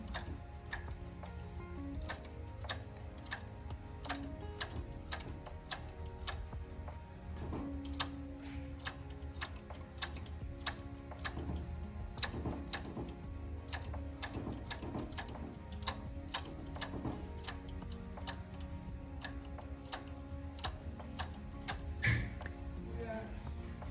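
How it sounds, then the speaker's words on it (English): Knitting machine needles pulled back one at a time along the bed after yarn is laid over them, a long run of sharp, evenly spaced mechanical clicks with a soft clatter beneath. "I'm going to lay the yarn over all of my needles and pull them one by one right to the back of the bed"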